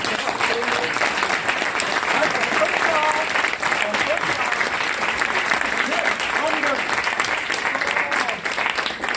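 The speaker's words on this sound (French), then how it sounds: "Nous lui devons de amples remerciements, applaudissements." An audience gives a dense, sustained round of applause, loud and continuous for about nine seconds, with faint crowd murmur mixed into the clapping.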